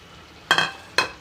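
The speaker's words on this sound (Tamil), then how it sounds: "அதை நான் மிக்ஸ் பண்ணிக்கிறேன்" Two quick scraping clatters of a utensil against a pan, close by, stirring tamarind water into eggplant thokku, with a faint hiss between them.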